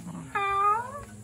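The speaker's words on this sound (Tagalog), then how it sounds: "Sumagot yung mga pusa." A cat gives one clear, drawn-out meow lasting about two-thirds of a second, close by. A faint low murmur runs before it.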